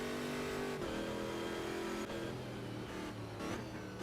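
Racing cars roar continuously in a sim race at a Brasilia track, engines revving with gear-change dips and tones sweeping up as they accelerate together through the end of a lap, loud and close throughout.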